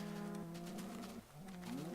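Cows in a Minecraft-style video game moo with a drawn-out, wavering low call that bends in pitch, close and clear with no talking.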